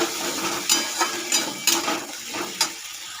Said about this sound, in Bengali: এটা ভালো করে এবার ভেজে নিতে হবে মশলাটা।